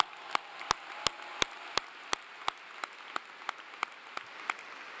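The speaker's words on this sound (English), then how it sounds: "I think those gentlemen deserve a round of applause." At a Clemson spring commencement, applause for the national champion men's soccer team comes as evenly spaced, sharp claps in a steady rhythm over a faint, distant crowd murmur.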